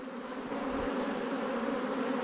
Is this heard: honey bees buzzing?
yes